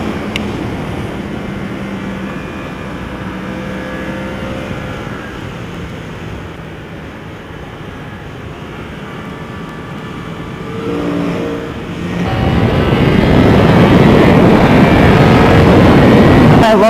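Yamaha R1 or R6 sport bike engine on a desert racetrack, a steady drone that swells into a loud, rising rev toward the end, with some talk underneath.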